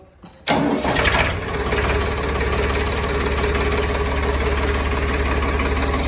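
A Farmtrac 30 Hero tractor's diesel engine cranks briefly, catches with a loud roar, then settles into a steady, rough, throbbing idle close by.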